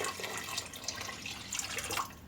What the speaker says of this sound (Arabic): استنوا بقى املى ميه تاني واجيلكم